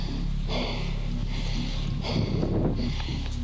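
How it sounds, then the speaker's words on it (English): Heavy, labored breathing from a person out in snowy winter weather comes in strong rhythmic gusts of inhales and exhales close to the microphone, mixed with wind noise. "Everybody hear how hard I'm breathing?"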